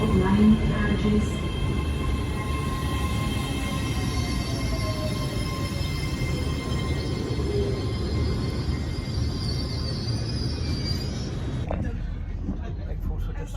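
A passenger train crossing the Tay Bridge heading to Dundee in snowy weather: a steady rumbling roll of wheels and carriage noise heard from inside, with faint squeals, continuous throughout.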